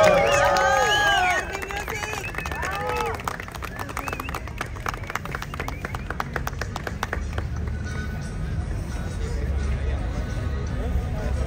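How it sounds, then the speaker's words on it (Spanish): A crowd applauds at a Walk of Fame star ceremony in Las Vegas: a voice talks briefly, then scattered, crisp hand claps ring out for several seconds and gradually thin away. "pide un aplauso fuerte para todo el equipo de trabajo que dio Pancho Barraza"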